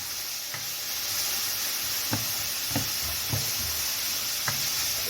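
Tricholome terreux (petit gris) mushrooms seasoned with salt and pepper sizzle steadily in a hot pan, a continuous broadband hiss broken by several soft utensil taps as they are stirred and browned.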